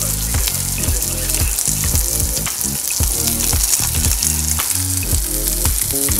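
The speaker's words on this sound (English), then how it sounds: "we're gonna let that sizzle a little bit longer" Ingredients for vegan top ramen sizzle loudly in a pan, a dense constant hiss and crackle with rhythmic low thumps throughout, heard alone.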